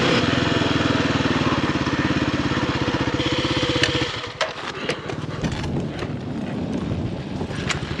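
A dirt bike engine drones steadily while riding through the desert in the California City OHV area, then drops to a rougher, gustier rumble with wind buffeting the microphone and clattering knocks.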